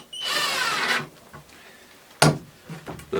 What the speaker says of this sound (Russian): Осталось его только закрепить на саморез.